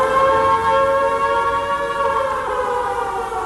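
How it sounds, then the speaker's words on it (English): A long, steady wailing air raid siren at Salford Quays holds a sustained rising-and-falling tone, loud and continuous with a slight downward drift, no voices present. "They sound the old air raid siren twice a day."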